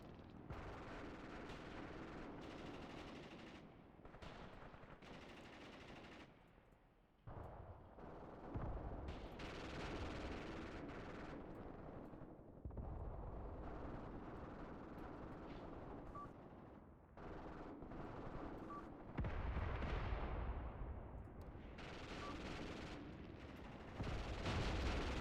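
Machine gun fire from the war game Graviteam Tactics rattles in long, dense bursts with heavy, booming rumble underneath, broken by brief pauses and then resuming loudly.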